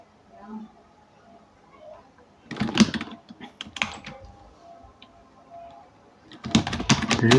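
Clicking computer keyboard keys typed in short irregular bursts while writing Python code for a small to-do list program, close and fairly crisp, separated by quiet pauses, with a voice talking in between.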